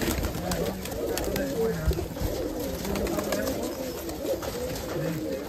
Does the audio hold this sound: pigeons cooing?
yes